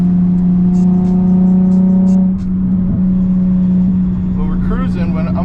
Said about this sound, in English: I'm lightly on the gas in 5th gear